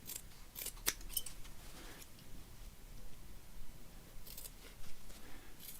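Scissors snip through fabric while a festive stocking is being made, several short sharp cuts in two quick bursts at close range, faint and with no talking.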